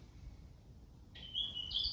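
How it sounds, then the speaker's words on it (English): Birds chirp outdoors, with a few thin, high tweets arriving near the end over a quiet background hum, fairly close and clear, with no voices. "Did you hear the birds? That was lovely."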